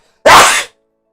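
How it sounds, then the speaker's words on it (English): A single sharp, loud sneeze, close by and alone, bursting suddenly and fading within half a second. "I gotta sneeze."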